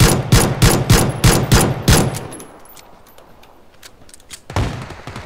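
Rapid bursts of gunfire in the shooter game PUBG, fired through walls at a school map, a loud rhythmic volley of about eight shots, then a quieter stretch and one more sharp shot near the end.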